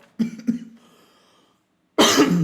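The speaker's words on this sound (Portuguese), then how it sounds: "pausa para tosse" Two quick, sharp coughs close up, then a brief quiet before another harsh, raspy burst.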